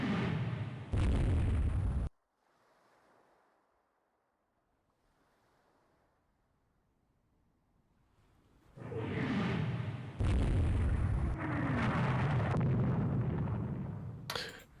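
Torpedo strikes in the naval game Rule the Waves 3 come as loud, roaring explosion bursts with a watery surge, split by a quiet lull before a second run of heavy blasts.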